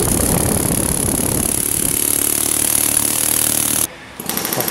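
A Chicago Pneumatic CP717 pneumatic air hammer hammers loudly and continuously, a rapid buzzing rattle, then stops abruptly and gives way to a brief hiss of air.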